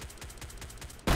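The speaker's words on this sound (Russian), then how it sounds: "стреляет уже БТР" Rapid automatic gunfire from an armoured personnel carrier in the game STALKER, a quick run of evenly spaced loud shots ending in a heavier blast.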